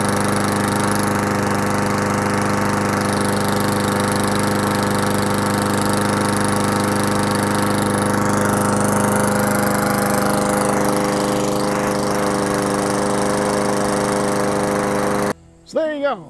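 A push lawn mower engine runs steadily, a loud continuous drone with a harmonic hum holding for about fifteen seconds before it cuts off abruptly into a brief moment of quiet.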